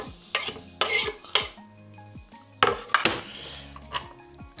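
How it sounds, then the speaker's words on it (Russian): A pot of smoked pea soup with potatoes, coriander and dill is stirred, a spoon clanking against the metal in several distinct knocks and scrapes, close and fairly loud with short pauses between strikes. "Сейчас перемешаем"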